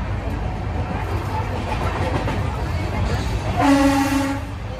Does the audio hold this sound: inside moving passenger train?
yes